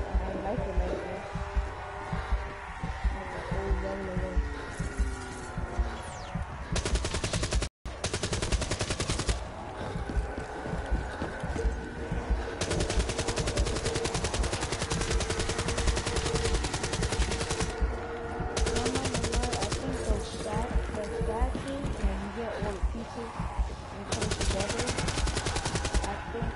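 Gunfire in a shooter video game, with long bursts of rapid automatic shots repeating for almost the whole stretch under steady talking.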